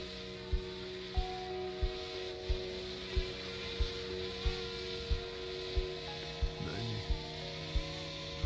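A DJI Mavic Air drone fitted with Master Airscrew Stealth props hovers at a distance, giving a faint steady tonal hum with a soft, regular ticking beneath it.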